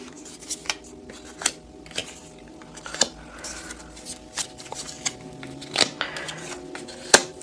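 Tarot cards shuffled and handled on a reading table, giving a run of soft, papery riffles and sharp flicks and taps at irregular intervals, fairly close and quiet, with no speech over them.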